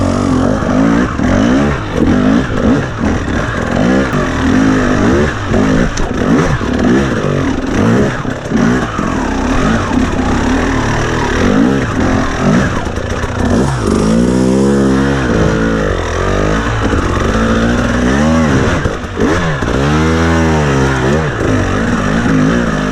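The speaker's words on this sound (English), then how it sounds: "So this is how the bike is idling now." A 2021 KTM 300 TPI two-stroke motorcycle runs loud and close, mostly at idle with a steady buzzing tone and several quick throttle blips that rise and fall.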